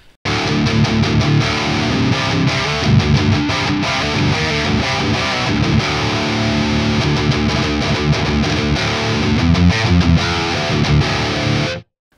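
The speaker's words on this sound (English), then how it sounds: "But now let's check out. the distortion channel." An electric guitar played through the distortion channel of a Raven Volcanic amp with an Ignite Amps Nadir impulse loader and no tube screamer, giving thick, saturated heavy riffing with chugging rhythm, steady and loud, stopping abruptly at the end.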